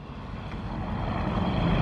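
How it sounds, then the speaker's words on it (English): A big classic lorry engine, a Foden at a truck show, rumbles steadily at a moderate distance, a low continuous drone that grows slightly louder over a couple of seconds. "Sounds like quite a big engine."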